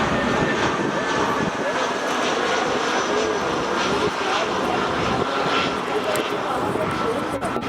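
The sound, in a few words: Lufthansa Airbus A320 from Berlin landing at Frankfurt Airport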